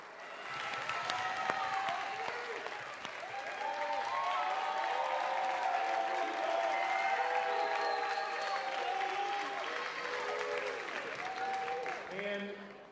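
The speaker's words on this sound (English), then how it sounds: "please stand and let's give them a great round of applause" An audience claps steadily at an awards ceremony, with dense, sustained applause filling the room from a moderate distance, mixed with faint cheering and voices.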